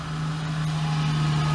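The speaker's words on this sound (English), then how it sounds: "there's another fire truck." A passing fire truck near an emergency landing gives a steady, loud low engine drone with a sustained hum, rumbling continuously throughout with no talk.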